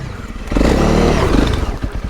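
A Honda CRF300 Rally motorcycle engine pulls hard off-road, a close, loud throbbing rev that jumps up and strains for over a second before easing off, with clattering and scraping from the rough ground.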